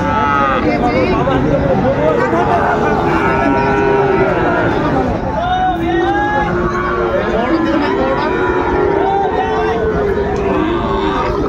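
Sahiwal cattle mooing repeatedly at a busy Dhaka cattle market, loud and close, with steady crowd chatter and voices bargaining throughout.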